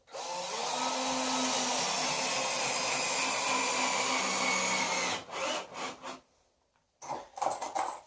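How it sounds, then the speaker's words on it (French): A power driver sinks a screw into recycled wood planks, a continuous close whirring grind for about five seconds. Short bursts and a pause follow, then another brief run. No one speaks. "on va venir se rajouter une deuxième vis à chaque bout de planche pour pouvoir barrer cet assemblage-là"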